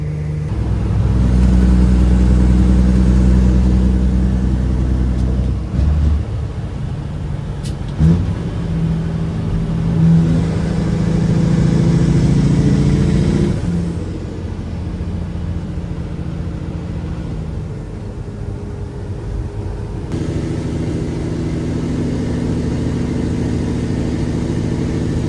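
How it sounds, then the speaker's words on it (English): A truck's engine rumbles steadily at close range, a deep idle with a brief swell of revving near the middle before it settles back to an even, throbbing drone; no one speaks. "This motor just rumbles"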